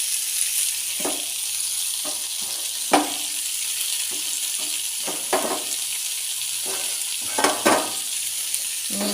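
Beans, onion and chili frying in a pan over low heat, a steady sizzle with intermittent stirring scrapes and light clinks, close up and without talk.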